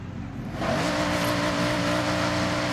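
A Datsun 240Z's engine revs up in the Forza Horizon 6 video game, a steady, loud, rising engine drone that swells after a brief quieter start and holds alone.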